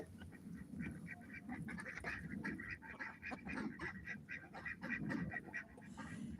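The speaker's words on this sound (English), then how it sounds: "they're a little bit quacky right now" Ducks around a backyard chicken coop quack repeatedly in a busy, overlapping chorus of several birds, close and fairly loud with no one talking.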